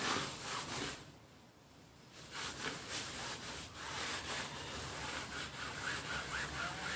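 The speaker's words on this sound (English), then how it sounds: "So I'm already wiping all the vine." Vine charcoal is wiped off a canvas before oil painting, giving a soft, continuous close rubbing with steady back-and-forth swishes and no speech.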